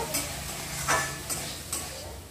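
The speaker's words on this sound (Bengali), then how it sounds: "নিয়ে সবজির সঙ্গে একটু ভালো করে ভেজে নেব" Vegetables and washed lentils frying in ghee in a pan, a continuous sizzle with a few sharp spatula scrapes and clinks, close and fairly loud.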